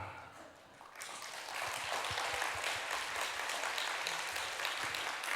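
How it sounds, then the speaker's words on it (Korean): Church congregation applauding during a Friday worship service, a broad steady wash of clapping that rises after a quiet opening second and holds at an even level, fairly close. "여러분 박수 소리가 좀 껄떡지근하네 이렇게"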